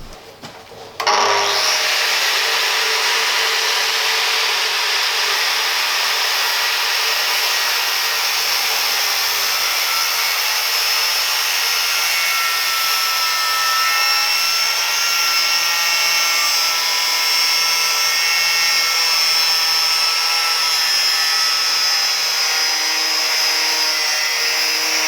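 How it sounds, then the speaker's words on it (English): An angle grinder cuts into 15 mm steel plate on a heavy-duty lifting table, starting after a brief pause and then holding a loud, continuous high-pitched whine and grinding roar for the rest of the clip. "hopefully this will help me to cut this 15 millimeter steel plate"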